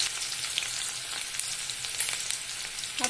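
Chopped onion and green chili fry in hot oil for chhole, making a loud, close, continuous hissing sizzle with faint crackles throughout and no voices.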